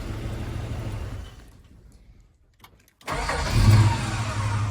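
A CM Regal engine is started on a cold morning. Running noise fades to near silence, then the engine catches abruptly, swells briefly and settles into a steady, close idle.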